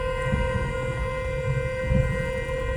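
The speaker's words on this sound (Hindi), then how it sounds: "लॉन्ग हॉर्न प्रेस करो" A long, steady car horn blares at close range, holding one unbroken tone for the whole stretch with no talking.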